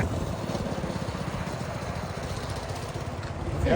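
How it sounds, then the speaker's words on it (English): A mini bike motor running steadily in a shop, a continuous buzzing engine drone that swells slightly toward the end, with no talk over it. "That motor's definitely got more balls than his last motor"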